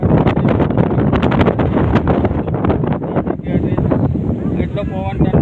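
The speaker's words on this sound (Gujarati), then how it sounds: "એટલો પવન ઠંડો આવે છે મારા હાથમાં મોબાઈલ જરૂરી જાય પવન આવે છે" Strong cold wind buffets a handheld phone microphone outdoors at a Kuber Mahadev temple, a loud continuous roaring rumble, with a voice talking over it.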